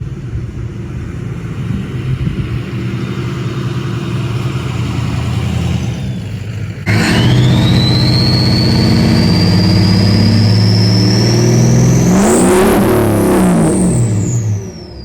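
A 6.0L Power Stroke diesel truck with a loud aftermarket turbo idles with a deep rumble, then is revved hard as the turbo spools into a rising whistle that climbs and holds before falling away as the engine winds down, loud and close.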